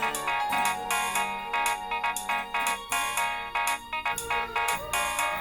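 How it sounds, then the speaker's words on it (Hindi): A phone ringtone plays a bright, repeating melodic pattern in steady bursts, loud and close, with no voices. "तुम्हारे फोन से मुझे कॉल क्यों आ रही है?"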